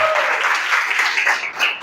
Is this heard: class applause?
yes